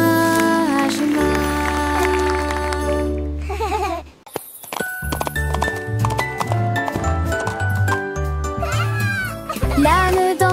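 A goat bleats with a wavering, quavering cry set inside a bright children's nursery song, with music playing throughout and the bleat mixed among the instruments.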